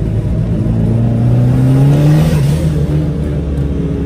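A Nissan Langley fitted with an SR20DET turbo engine accelerates, its note climbing in pitch through a gear and then dropping as it shifts, loud and close from inside the car with no speech.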